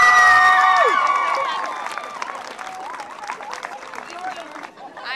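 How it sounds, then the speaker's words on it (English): Crowd applause and cheering for a school's 2011 homecoming king and queen, rising over whistles and shouts before settling into steady clapping with excited voices. "Give all our participants a huge round of applause."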